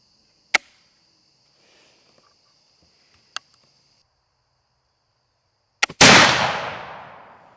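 Traditions Deer Hunter flintlock rifle fired outdoors in humid weather with a gummy frizzen: a couple of sharp clicks and a lock snap, a brief hang, then a loud near blast whose roar fades over about a second and a half.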